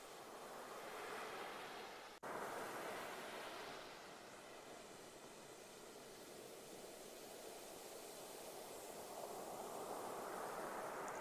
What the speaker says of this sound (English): you find a place to sit so that you're facing the sea, and you watch the waves